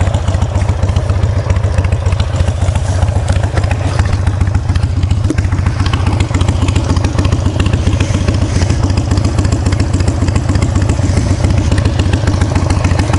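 A motorcycle that is burning oil rides along with a loud, steady, rapid engine drone and rumble throughout, close and constant.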